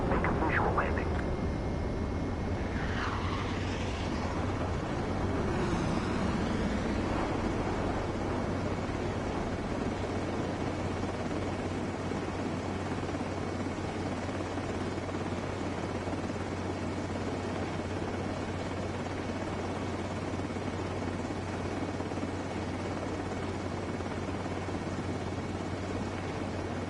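Jet fighter touching down on a runway during a visual landing in the video game Ace Combat 7: a steady, loud engine roar with a low hum runs throughout, briefly layered with higher whooshing sweeps early on.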